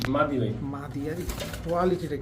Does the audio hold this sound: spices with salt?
no